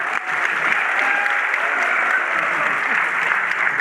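Audience at a regional tourism conclave in Vindhya clapping in welcome, sustained dense applause filling the hall, loud and steady throughout with no talk over it.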